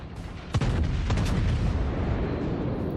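Naval gunfire from the battleship HMS Nelson in World of Warships: a sharp boom near the half-second mark, followed by dense rumbling shell and cannon bursts over a steady loud background, with no voices.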